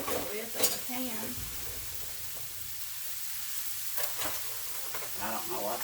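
A pork sirloin roast sears in a hot pan with a steady, soft sizzle and hiss running throughout, interrupted by a few brief clatters and bursts of handling noise near the start and around the midpoint.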